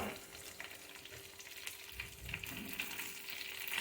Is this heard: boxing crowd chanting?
no